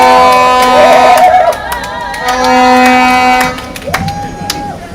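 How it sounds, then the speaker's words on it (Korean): A rally crowd outside the People Power Party headquarters, protesting a push to add the May 18 spirit to the constitution's preamble, cheers and applauds loudly, with tonal horn-like blasts over the noise before it dies down near the end. "한 1000명분의 박수로 한번 김기수 변호사님을 모셔보도록 하겠습니다."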